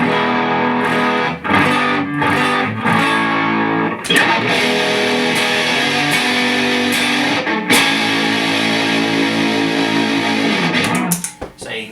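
Electric guitar played through a Charlie Brown overdrive pedal, crunchy and distorted, with strummed chords ringing out and sustaining, then fading out at the end.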